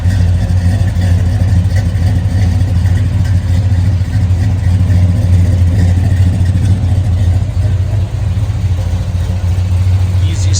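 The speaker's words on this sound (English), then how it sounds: "Let me fire it up real quick. It's a big block 454 under the hood." A 1974 Chevrolet El Camino's big-block 454 V8 idles with a deep, steady, loud rumble, running continuously close by.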